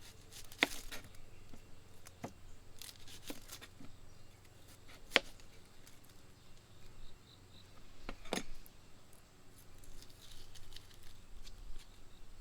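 A knife cuts a fresh red onion into halves on a board, giving faint, scattered sharp chops and taps with quiet gaps between them in a calm kitchen.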